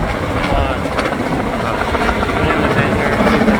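Helicopter flying at Steel Pier, a loud continuous rotor and engine roar filling the whole stretch with steady low chopping.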